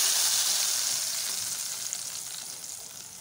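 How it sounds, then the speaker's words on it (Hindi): Browned onion tempering poured over cooked masoor lentils sizzles loudly at first, a steady hissing fry that slowly eases off. "अब हम प्याज का भगाड़ डालेंगे।"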